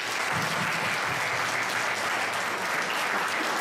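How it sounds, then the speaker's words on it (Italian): An audience applauds at an award ceremony for the fifth Vittorio Minasi memorial, a steady, dense wash of clapping that holds at an even level from start to finish with no voices over it. "vi chiedo un forte applauso"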